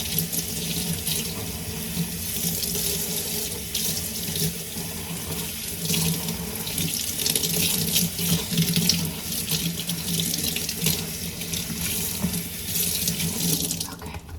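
A kitchen water tap runs steadily over a houseplant being rinsed off, a continuous close splashing gush that stays loud and even throughout with no voices.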